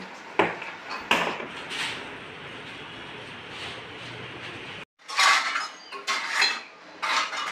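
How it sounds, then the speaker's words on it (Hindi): Dishes are set one by one into a rack in a home kitchen, giving sharp clinks and clatters of metal and crockery in irregular bursts, separated by short pauses and one brief silent gap. "फिर मैं अब स्टैंड में ये बर्तन सारे लगा रही हूँ और फिर उसके बाद सारे बर्तन धोऊंगी।"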